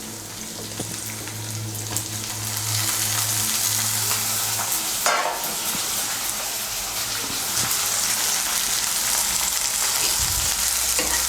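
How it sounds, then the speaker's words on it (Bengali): Chopped tomato dropped into hot oil with browned onions sizzles loudly and steadily at close range, with occasional stirring scrapes and crackles throughout and no speech. "এখন আমি এর মধ্যে দিয়ে দেব টমেটো কুচি।"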